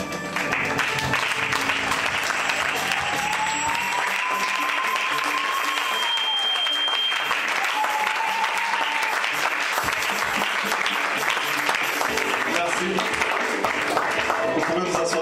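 A church congregation at a first-anniversary service applauds steadily and loudly, a dense sustained wash of clapping with a few faint voices and whistles rising over it.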